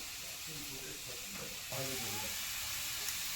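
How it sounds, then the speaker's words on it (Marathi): Grated coconut sautés in a little ghee in a kadhai, giving a steady soft hiss under a continuous background of voices. "नारळाचं जे नारळ मिक्सरमधून काढून घेतलं ते घातलेलं आहे त्याला मस्त असं परतून घेत राहायचं"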